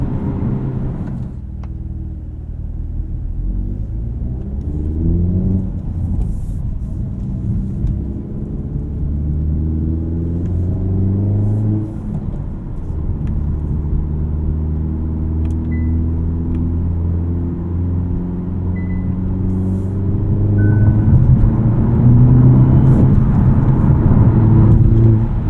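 A 2024 Hyundai Elantra N with a six-speed manual pushed around a highway entrance ramp under cornering load: a steady, loud engine drone and road rumble carry throughout, with pitch rising and falling as revs change, swelling louder near the end.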